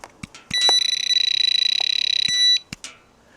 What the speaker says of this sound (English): it's got a built-in alarm built into it